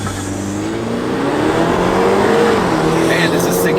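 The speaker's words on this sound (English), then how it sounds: "0 to 60 in the 230i BMW with xDrive." A BMW 230i xDrive 2.0L engine revs hard and climbs in pitch through the gears as it accelerates from 0 to 60, loud and close, with faint tire noise.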